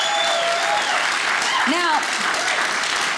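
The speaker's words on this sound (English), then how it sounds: "Let's hear it for our veterans in the house tonight" Audience applause for veterans at a stand-up comedy special, a dense clapping wash at moderate level with a performer's voice talking and calling out over it.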